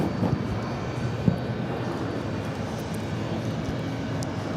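Boeing 767 jet airliner bound for Lima, Peru, at New York JFK Airport, a steady distant engine rumble held at an even level throughout, with a couple of faint brief knocks and no voices.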